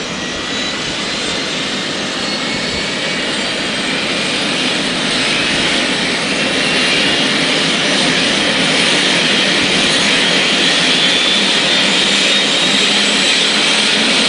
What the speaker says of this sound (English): I don't think I've ever been this close to a real helicopter.